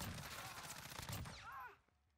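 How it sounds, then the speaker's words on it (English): M13 rifle firing in Modern Warfare multiplayer: a rapid, continuous burst of high-rate automatic gunfire that runs for under two seconds, then cuts off into quiet. "I just love the fire rate on this gun."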